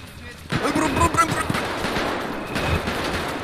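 Rapid bursts of GTA V gunfire crackle over a busy background, with voices talking over the shots throughout.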